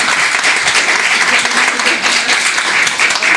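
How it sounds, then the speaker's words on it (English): An audience at a writers festival panel applauds a panelist, with loud, continuous clapping from many hands filling the room evenly from start to finish. "Can we get a round of applause for Ger?"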